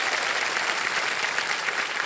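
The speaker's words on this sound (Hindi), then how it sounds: "इनके लिए भी तालियां बजाएं।" A studio audience on a television quiz game show applauds with loud, dense, continuous clapping that stays steady throughout.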